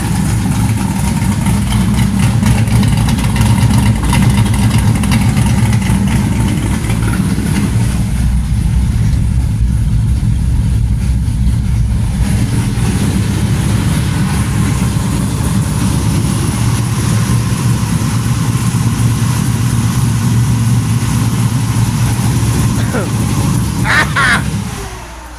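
A big block engine running on pump gas, a loud steady idle-like rumble that fills the whole stretch, with voices talking over it.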